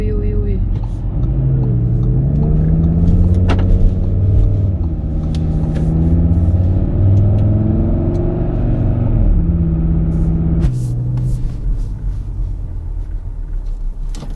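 Audi RS Q3 Sportback engine heard from inside the cabin, a steady sporty drone that swells and falls with throttle, running continuously beneath a voice.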